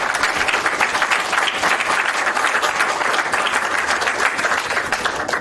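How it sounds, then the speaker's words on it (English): An audience at an event gives sustained, dense applause, many hands clapping loudly and steadily with no pause. "I would like to ask everyone to give a special applause to Bernd."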